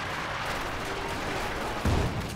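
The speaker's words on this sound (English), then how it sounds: "Enemy support gun though, firing away" In the Company of Heroes 2 video game, a support gun fires amid a dense rumble of battle, with one heavier booming shot standing out near the end.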